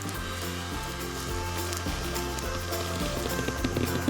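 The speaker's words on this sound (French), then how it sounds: "Allume le sèche-cheveux et regarde l'air faire son tour de magie." A hair dryer blowing air to inflate a mattress, a loud continuous roaring whir with a steady hum underneath, unbroken for the whole stretch with no talking.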